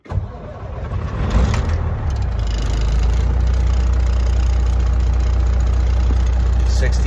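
A cabover truck engine cranks and catches, then settles into a loud, steady low idle close by, with a voice speaking briefly over the start.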